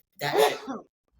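A single close, loud sneeze bursts out with a sharp, breathy explosion that trails off within a second.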